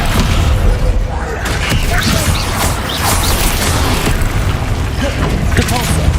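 Spell-combat clamor from Hogwarts Legacy as the Descendo spell slams an enemy down, a loud continuous wash of booms, crashes and clattering effects with a voice calling out over it.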